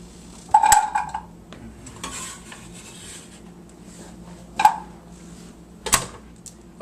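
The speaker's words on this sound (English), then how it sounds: "you just throw them right into the pot that you're going to use to steam all the vegetables with" Chopped vegetables land in a metal steaming pot with a few sharp, separate clanks and clatters spread out over several seconds, close by and fairly loud.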